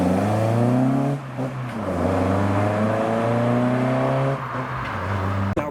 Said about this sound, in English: Seems like the 2000s GT Celica is next up leaving.